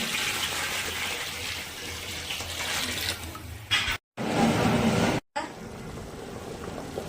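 Water runs and splashes into a pot while a village-style Hyderabad biryani is being cooked, a steady close gush broken by two brief silent cuts, then a louder splashing burst before the flow resumes.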